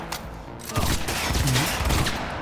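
Sustained gunfire in Cyberpunk 2077, a run of close, loud shots that starts after a brief lull and keeps going with heavy low thumps.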